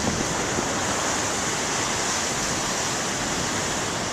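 Big ocean waves stirred up by a northeast wind churn in a continuous, even wash of surf, a full broadband roar with no talking.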